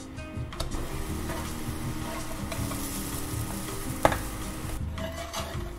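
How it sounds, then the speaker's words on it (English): A yuca tortilla quesadilla sizzles steadily in a hot pan or press, a constant frying hiss with a single sharp clack or scrape midway as it is turned. "now we're only gonna flip this once."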